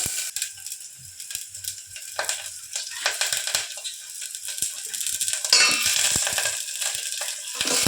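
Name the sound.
onions sizzling in tempering oil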